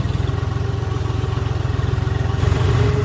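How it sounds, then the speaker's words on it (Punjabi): A tractor engine runs close by in a potato field, with a steady, heavy chugging pulse that swells slightly louder toward the end. "ਮੈਂ ਉੱਤੇ ਖੜ ਕੇ ਮੈਂ ਟਰੈਕਟਰ ਚਲਾ ਲੂੰ"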